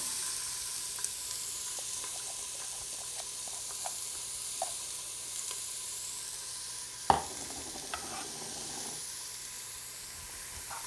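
Quiet, steady sizzling of vegetables frying in a hot pan for black bean chili, with a few faint clinks and one sharper knock midway.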